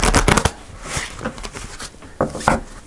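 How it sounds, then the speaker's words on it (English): Tarot cards being shuffled by hand, with quick riffling bursts at the start and softer scattered slaps and rustles afterward, close and clear with no talking. "Let me just shuffle the cards."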